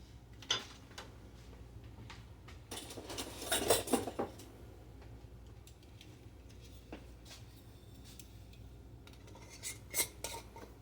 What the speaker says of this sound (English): I'm going to get these first pints into my canner